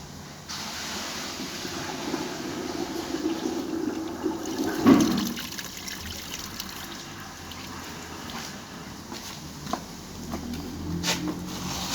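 Water poured down a drain pipe rushes and gurgles steadily, with a brief louder splash partway through, then keeps flowing.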